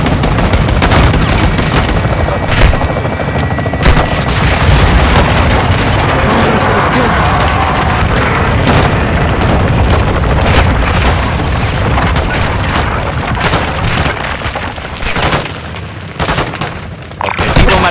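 Continuous gunfire and booming explosions fill a battle in Call of Duty: Modern Warfare II, with heavy blasts and sharp cracks layered densely over the whole stretch, loud and close, with faint voices mixed in.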